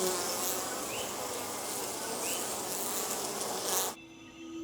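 Honeybees buzzing inside a Caribbean cave shared with bats, a dense, steady insect drone holding close and loud for about four seconds before cutting away abruptly.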